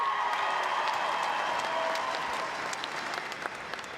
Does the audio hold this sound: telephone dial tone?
no